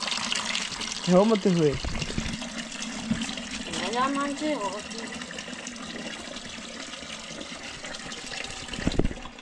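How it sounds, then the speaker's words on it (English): Water poured into a container for cleaning an outdoor toilet, a continuous splashing and trickling running throughout beneath people talking nearby. "So we are putting water."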